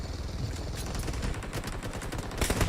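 Rapid automatic gunfire in the battle royale game PUBG Mobile, dense overlapping bursts of shots cracking close and loud with no pause for the whole stretch.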